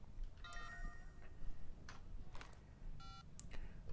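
Phone dialing inside the video game Sleeping Dogs: several short bursts of tonal keypad beeps, the clearest near the start and a steady tone cluster near the three-second mark, over a low rumbling game background.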